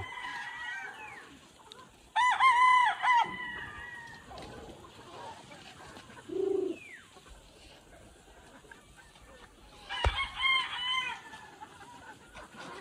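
On a breeding farm, a rooster crows loudly twice, several seconds apart, with hens clucking softly in between and low background noise throughout.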